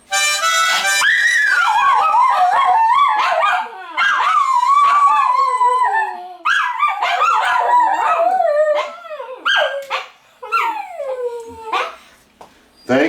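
Several dogs howl together, loud and close, with yips and barks mixed in, their long wavering cries rising and falling in overlapping waves that pause briefly between bursts.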